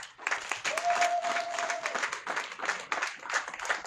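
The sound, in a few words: congregation applauding and cheering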